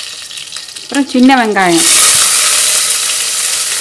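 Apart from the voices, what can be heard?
mustard seeds spluttering in hot oil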